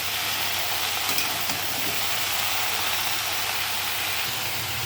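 Potato and bottle gourd fry in a pan while being stirred, giving a steady close sizzle with soft scraping throughout and no talking.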